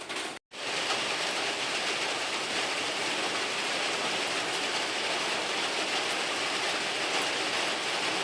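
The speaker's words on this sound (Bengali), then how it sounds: "কি বৃষ্টি শুরু হয়ে গেছে বন্ধুরা" Rain falls outside as a steady, even hiss that carries on without pause after a brief silent gap at the very start.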